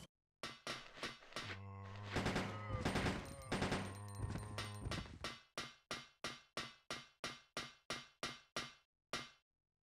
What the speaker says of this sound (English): What they call an assault rifle.